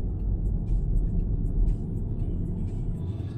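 Car driving along Bolshaya Morskaya street in Sevastopol, a steady close low road rumble and engine drone with faint tire noise, no talking.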